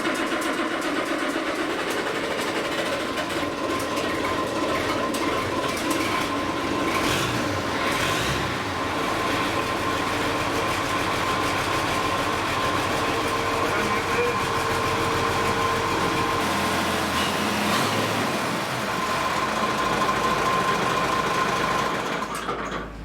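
A vintage tractor engine runs steadily with a dense, continuous mechanical clatter and rattle, loud and close throughout with a faint whine; no clear starting moment stands out, and the sound stays even for the whole stretch.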